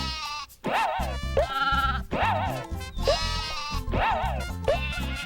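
Sheep bleat repeatedly in the video game Croc: Legend of the Gobbos, loud wavering cries looping over a steady game music backing, no talk over them.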